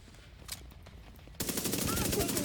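AUG rifle firing in a video game: sparse shots at first, then a sudden loud, rapid burst of continuous automatic gunfire that fills the rest of the clip.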